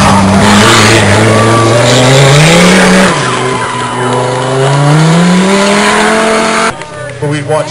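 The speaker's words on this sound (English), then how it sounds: "This is a really cool sounding car, the old Audi's here." An old Audi rally car on a stage of the Oregon Trail Rally blasts past close by at speed, its loud engine climbing through the gears with shifts and tire noise, while a voice talks over it.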